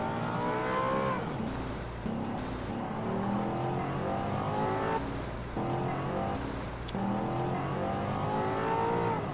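Cars driving and revving in GTA San Andreas roleplay, a steady loud engine drone with rising and falling pitch sweeps as vehicles accelerate away, continuous with no talk.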